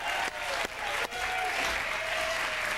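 A game show studio audience applauds and cheers during a contestant's wheel spin on a Thanksgiving trivia special, a dense sustained burst of clapping with short dips, loud and close.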